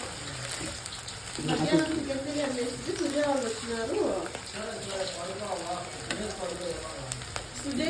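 Cauliflower roasts in hot oil with a continuous close sizzle and bubbling crackle, running under someone talking throughout.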